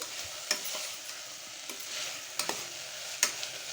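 Coriander and mint being stirred into a veg pulao mixture in a pan, quiet sizzling beneath a few sharp spoon clinks and scrapes at irregular moments, close and wordless.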